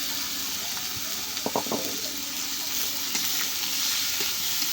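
Boiled pumpkin greens dropped into a pan of garlic and onion fried until red, giving a steady close sizzle with a few sharp crackles and stirring scrapes.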